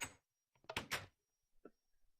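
A Minecraft-style zombie-proof double door, driven by pressure plates and redstone repeaters, swings shut in a video game, giving a few short, soft clacks and thuds close by in otherwise near silence.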